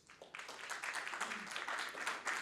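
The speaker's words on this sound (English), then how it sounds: "Can we have a big round of applause for them" An audience at a trade event welcomes speakers to the stage with a fairly faint but continuous round of clapping, heard slightly distant.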